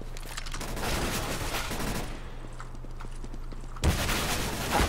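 Gunfire in a competitive shooter video game, a dense rattle of rapid shots that drops briefly to quieter scattered pops before the loud firing resumes, with no talking.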